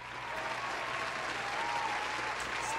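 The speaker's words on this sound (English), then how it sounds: "I just finished a 8-page paper, so can I get a round of applause?" A short burst of crowd applause plays, dense even clapping at moderate loudness throughout, with no speech over it.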